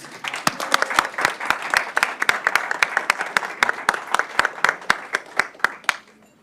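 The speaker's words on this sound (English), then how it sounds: "Give yourselves a round of applause." A room full of people claps steadily for several seconds, sharp rhythmic hand claps that gradually thin out and fade away.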